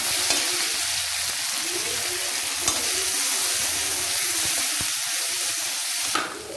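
Onions fry in oil with vadagam for kara kuzhambu, producing a continuous close sizzle and hiss with occasional stirring scrapes and a brief clatter near the end.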